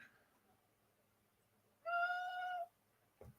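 One clear, drawn-out cat meow close by rises out of a quiet room, followed by a short rustle.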